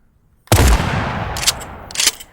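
A shotgun in a breaching game blasts once with a sharp, loud boom that rings out, followed by two quieter mechanical clacks like pumping the action.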